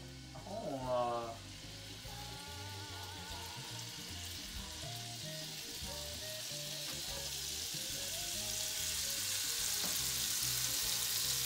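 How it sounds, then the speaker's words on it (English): Meatballs hit a hot frying pan with a brief clatter, then a continuous sizzle builds and grows steadily louder and brighter close by. "So now I'm putting the meatballs into my pan."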